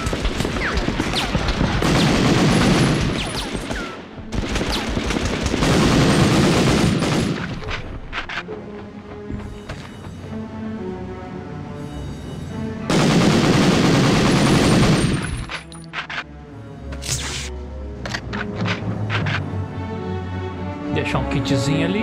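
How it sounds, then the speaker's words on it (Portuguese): Rapid gunfire from the PlayStation 1 game Medal of Honor, with bursts of machine-gun fire and loud booms coming in heavy waves, easing into scattered shots between them, amid steady game background sound. "E o cara atirando feito um doido aqui"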